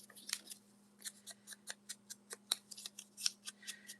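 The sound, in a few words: scissors cutting paper tag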